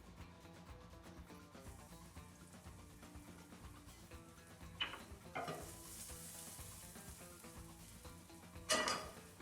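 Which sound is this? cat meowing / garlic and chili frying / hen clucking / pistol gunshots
garlic and chili frying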